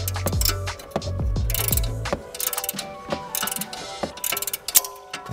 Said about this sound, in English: you are going to push up on your wrench and you're going to loosen this